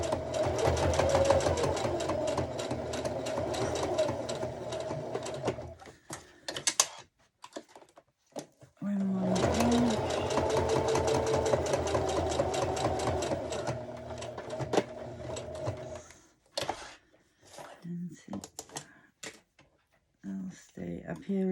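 Home sewing machine running short stitching bursts and a few back stitches while sewing a fabric ID holder, a steady mechanical whir broken by pauses, with a person talking over it.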